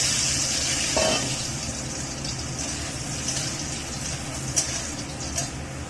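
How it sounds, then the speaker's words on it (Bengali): Parboiled potatoes frying in hot oil in a wok, a steady, close bubbling sizzle with a few soft clinks of stirring. "আলুটা ভেজে নেব"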